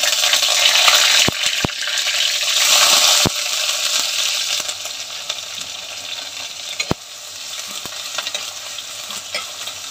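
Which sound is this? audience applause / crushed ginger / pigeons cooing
crushed ginger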